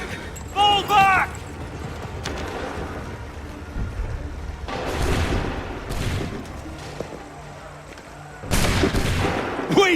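Musket volleys in Assassin's Creed III crack out in bursts, a loud early blast followed by scattered shots and heavy booming volleys near the middle and end, with shouted commands and battle noise around them.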